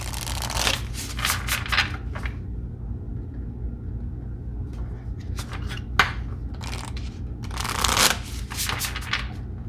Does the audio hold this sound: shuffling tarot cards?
yes